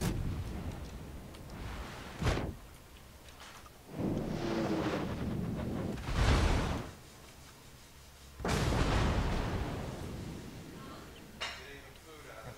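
Warship gun salvos in a naval battle video game, a few deep booming blasts with rolling thunder-like tails spaced several seconds apart, each followed by a lingering low rumble.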